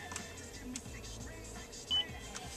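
A car radio gives a single short, thin electronic beep while a preset station is being saved, brief and moderately clear over a low background hum inside the vehicle.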